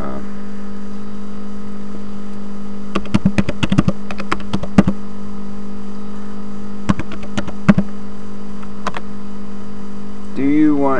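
A password is typed on a computer keyboard in short bursts of clicking keystrokes, separated by pauses, over a steady mains hum.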